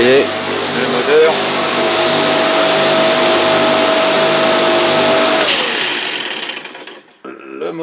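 Electric lawnmower motor running after a capacitor replacement, a loud steady whine with a constant hum that holds evenly, then winds down and cuts out near the end, leaving faint handling noises.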